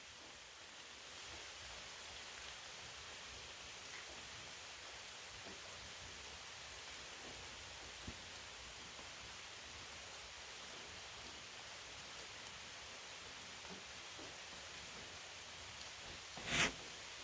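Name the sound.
rain falling outdoors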